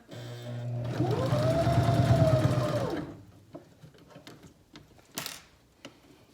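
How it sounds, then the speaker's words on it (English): A sewing machine stitches through several layers of a pleated fabric face mask in one steady, close run of about three seconds, its motor pitch rising and falling, followed by quiet clicks and handling noises. "you're sewing through a lot of layers right now"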